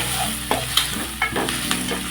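Onions, green chillies and tomatoes fry in a pan for a chicken curry, with a steady close sizzle and sharp scraping stirring strokes about every half second.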